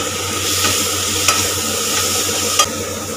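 Prawn dopiaza ingredients with Kashmiri chilli are stirred in a pan, making a loud, continuous close sizzle with two brief scraping clatters of the spoon.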